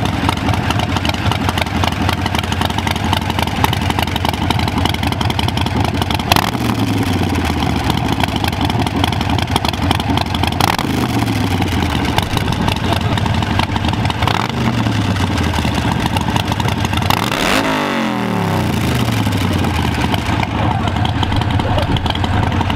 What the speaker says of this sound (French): elle fait beaucoup de bruit. Bah, attends, on va écouter ça, on va la démarrer